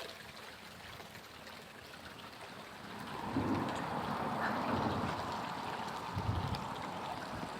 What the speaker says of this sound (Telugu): వాటర్ అయితే ఇట్లా ఫ్లో అవుతున్నాయి ఇక్కడ నుంచి చిన్న వాటర్ ఫాల్ అన్నట్టు